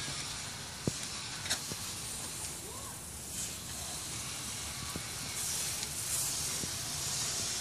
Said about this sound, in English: Dave, go ahead and start spraying and spray it and load it full.